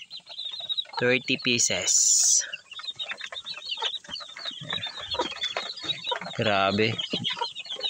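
A batch of about 30 newly hatched chicks peck at feed and make small, high peeps and soft clucks in short bursts. A person speaks quietly over them.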